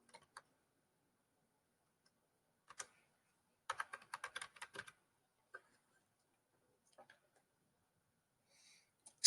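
Fingers type on a computer keyboard in quick, irregular bursts of light clicking keystrokes, with a dense flurry in the middle and scattered single taps, heard alone and fairly close.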